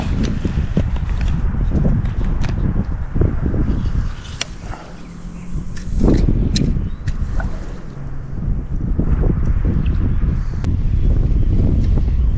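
Steady wind buffets outdoors, rumbling loudly across the microphone with a few gusts and faint knocks and rustles throughout.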